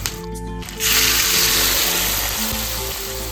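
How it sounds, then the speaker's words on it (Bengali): Cinnamon, cardamom, cloves and dried chillies hit hot oil left from frying meat, bursting into a loud, close, continuous sizzle after a brief quieter start. "মাংস ভেজেছিলাম যেই তেলে ওই তেলে দিয়ে নেবো দারচিনি এলাচ লবঙ্গ আর শুকনো লঙ্কা"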